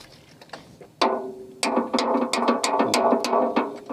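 Steel locking pins driven into the holes of steel column formwork for a house foundation pier, giving a sharp metallic clank followed by a run of ringing clinks and ratcheting taps, close and fairly loud.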